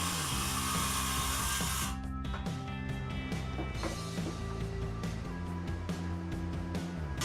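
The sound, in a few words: circular saw cutting MDF shelf pieces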